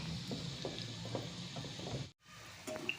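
Bhaji fritters sizzle in hot oil over a low flame while being stirred, a steady crackling hiss with light stirring taps that briefly drops out before resuming.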